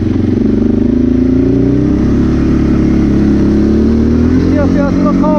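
A rebuilt 2006 Arctic Cat 400 ATV engine with a new piston revs steadily and loud up close, its droning note rising and holding as it runs, with a voice speaking over it.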